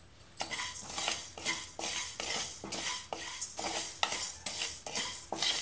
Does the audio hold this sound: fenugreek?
yes